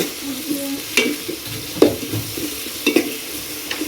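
Fenugreek seeds and spices fry in a hot pan with a soft steady sizzle, broken by a few sharp scrapes and taps of a stirring spoon, close up and without speech.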